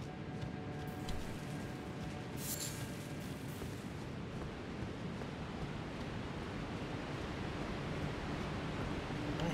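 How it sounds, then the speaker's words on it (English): Rushing water roars in the video game Elden Ring as a constant, even wash of noise with no breaks, sounding moderately close, with a few faint clinks and taps over it. "I hear rushing water"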